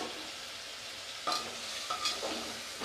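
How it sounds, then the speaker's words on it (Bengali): Chicken stir-fried in a pan with beans, carrots, onions and a little salt, a soft steady sizzle with two sharp spatula scrapes against the pan partway through. "সবজির সঙ্গে একটুখানি নেড়ে চেড়ে ভেজে নেব। ভালো করে নেড়ে চেড়ে এটাকে একটুখানি ভেজে নিতে হবে"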